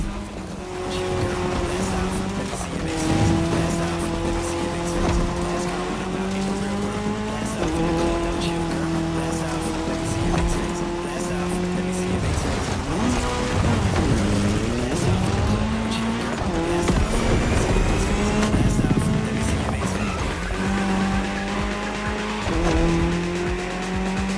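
Racing cars in The Crew Motorfest tear across tarmac in a cross-terrain Red Bull Speed Clash race, engines whining through rising and falling gears with tire squeal and skids throughout, loud and continuous beneath occasional commentary.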